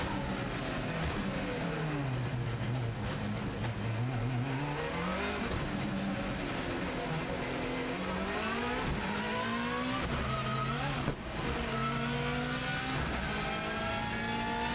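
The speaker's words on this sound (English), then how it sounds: "So here we go, we're now accelerating for the flying start" Race car engine on a TT lap, revving hard and climbing through the gears as it accelerates for a flying start after a tight hairpin; loud, close and continuous with rising, shifting pitch sweeps.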